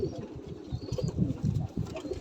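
A high-flying pigeon coos close by, its soft low calls repeating in a steady pulsing rhythm over quiet background noise.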